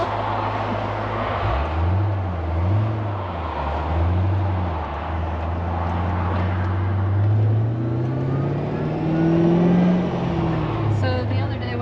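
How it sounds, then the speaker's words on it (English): A Pontiac GTO's exhaust drones low and steady from inside the moving car, rising and falling in pitch as it shifts and accelerates, with a longer climb near the end; the engine note holds throughout. "I love this exhaust."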